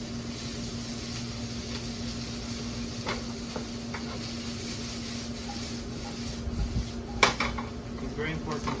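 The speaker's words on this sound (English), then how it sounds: "It's very important to keep stirring so they don't stick to the pan." A wooden or metal spoon stirring shiitake, oyster and cremini mushrooms in a pan, with soft scraping and occasional clinks against the pan over a faint sizzle and steady hum, plus a sharper knock near the end.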